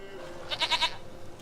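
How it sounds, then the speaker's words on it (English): A goat bleats in The Witcher 3: Wild Hunt, a short wavering cry of a few pulsed notes in the middle of the clip, fairly clear over quiet game ambience. "Goat of mine, dearest, sweetest goat."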